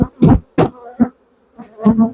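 A honeybee swarm at a crowded hive entrance, bees spilling out for lack of space, buzzes loudly in close, uneven bursts as individual bees pass near, with brief quiet gaps between.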